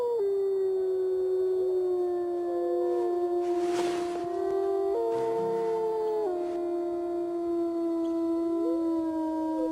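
A lone wolf howls long, mournful notes that slide up and down in pitch, sustained and clear, a low-ranking omega wolf singing without pause.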